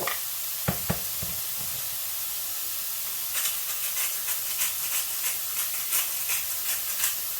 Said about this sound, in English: use a spoon to break up the mince as it cooks, then drain and discard any excess fat